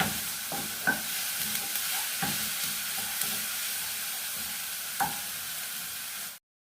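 Onions fry in a pan, browning and giving off a soft, steady sizzle. A utensil scrapes and clinks against the pan in scattered stirring strokes, heard up close, before the sound cuts out at the end.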